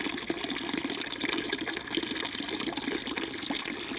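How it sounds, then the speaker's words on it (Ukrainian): Steady running water from an unclosable tap in an old courtyard in Prague's Malá Strana splashes and gushes nearby, a continuous bright rushing flow without pause. "Вода тече."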